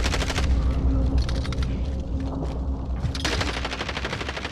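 In a battle royale video game, rapid automatic gunfire rattles out in dense, loud bursts, with a short lull in the middle before the firing picks up again.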